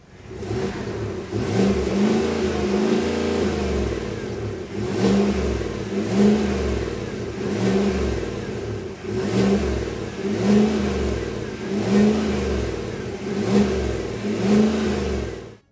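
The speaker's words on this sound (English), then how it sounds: "the last one is the 2024 GMC Yukon Denali. Now listen to that V8." A 2024 GMC Yukon Denali's naturally aspirated V8 revs again and again, about eight loud rhythmic bursts that each climb and fall back, heard close and alone.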